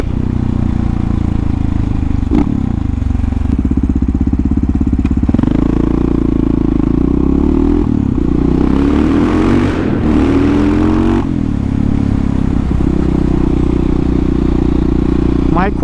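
Supermoto motorcycle engine running close by, rumbling and revving up and down repeatedly with rising and falling pitch across the whole stretch, under someone talking.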